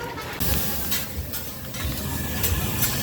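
A steady refrigerant hiss leaks from the hot gas condensate drain pan heater of a Hobart reach-in cooler. It is a continuous close airy hiss with a low rumble under it and a few soft knocks.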